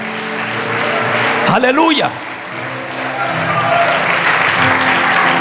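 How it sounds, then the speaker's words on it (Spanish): A church congregation claps and cheers steadily through a sermon, with a preacher's voice briefly rising over the applause. "Dale un aplauso a Dios porque así será."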